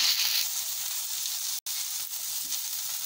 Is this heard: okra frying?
yes